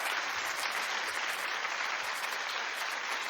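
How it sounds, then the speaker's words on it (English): A television talk-show studio audience applauds in a dense, sustained wash of clapping that stays steady and fairly loud throughout, with no voices over it. "Keep clapping, everybody."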